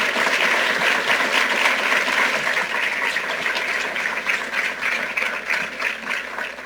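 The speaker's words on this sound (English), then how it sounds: "So to Linda and Michael, let's give them a really special round of applause" An audience at a New York gun safety announcement breaks into a round of applause, thick continuous clapping at full strength that eases off slightly toward the end, with no speech on top.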